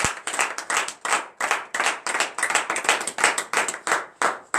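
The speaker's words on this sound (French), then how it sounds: "À présent, levons-nous sur nos pieds et remercions le Seigneur par notre simple acclamation." A church congregation at a Friday morning prayer service claps in acclamation, a few people beating out quick rhythmic bursts of sharp, close handclaps, with no voices over them.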